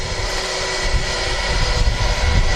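At Manchester Airport, a British Airways A320 taxis off runway 23 right after landing, a continuous loud broadband jet engine roar with a steady hum that holds throughout.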